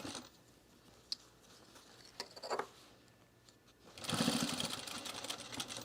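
A sewing machine stitching a sewn rug starts up near the end, running as a steady loud close whir after a few seconds of quiet handling noises and small clicks.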